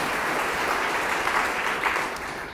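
An audience at an honoring ceremony claps together in sustained, dense applause that holds steady and loud throughout, fading slightly at the end.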